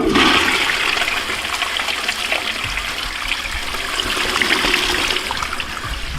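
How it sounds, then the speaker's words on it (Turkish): A toilet flushing up close in a bathroom: a loud initial rush of water that settles into a steady swirling drain and trickle lasting several seconds. "şimdi sifona bastım"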